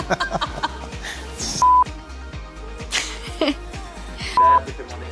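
Short electronic telephone beeps sound twice amid lively chatter and laughter during a group job interview call, the tones brief and fairly loud over the background voices.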